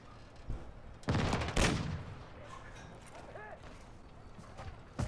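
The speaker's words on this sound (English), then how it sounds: "Oh, you sniped me." A video-game sniper rifle fires a sharp, booming shot that trails off into a brief echo, followed by quieter game sounds and chatter.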